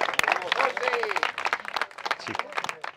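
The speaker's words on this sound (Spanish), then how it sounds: "Fuerte el aplauso." Applause from an audience at a prize ceremony for a regatta race in Villacañas, dense clapping under loud overlapping talk and shouts from the crowd.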